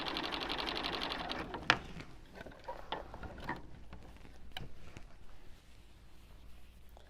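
A sewing machine runs in a fast, steady buzzing burst while stitching a quilt border, then slows into scattered mechanical clicks and handling noises, close and fairly quiet.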